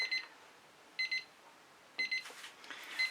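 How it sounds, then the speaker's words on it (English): A timer goes off during a fluid art painting session, giving a clear electronic alarm of short double beeps that repeat once a second, with faint rustling near the end. "I want to make sure when that timer goes off I have a chance to shimmer something at you."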